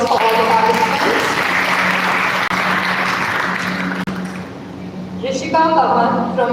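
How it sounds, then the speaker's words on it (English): A crowd applauds loudly for several seconds for the participants at a school event, the clapping thinning out before a voice starts speaking over the tail end. "Can we please have a huge round of applause for all the participants?"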